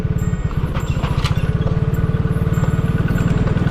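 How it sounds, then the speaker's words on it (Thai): Farm tractor engine running on a rough, potholed village road in rural Laos, a loud, close, rapid and steady thumping that carries on without a break. "โอ้รถไถ"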